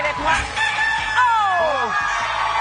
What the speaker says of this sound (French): Est-ce que vous avez bien entendu comme moi le coq d'or